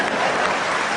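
Steady applause from a live audience at a Hindi comedy poetry gathering (kavi sammelan), a continuous dense wash of clapping throughout with no pauses.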